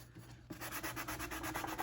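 Rhythmic back-and-forth scraping as a sanding block rubs over cured epoxy on a glitter tumbler, close and steady, starting after a brief quiet moment and continuing in even strokes.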